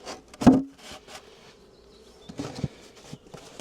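Honeybees buzzing around a hive frame during an inspection, a faint steady hum with a louder close buzz near the start and some light wooden knocks and rubbing from handling the frame.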